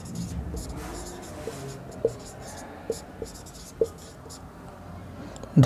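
A maths question is written out on a board in scratchy strokes, with a few sharp taps as the writing tool meets the surface. A person talks quietly underneath.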